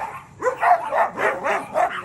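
A dog barks several times in a row, short, close yelps spaced roughly a quarter second apart, clear against a quiet background with no talk.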